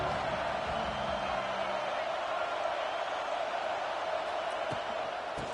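A stadium crowd murmurs in the NCAA 25 college football video game, a low, steady roar of many distant voices that holds evenly at a quiet level with no cheers or sharp peaks.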